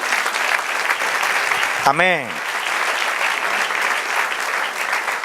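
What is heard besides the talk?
church congregation applauding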